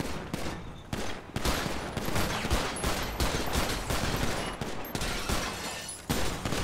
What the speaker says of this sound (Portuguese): Dando uns tiros ali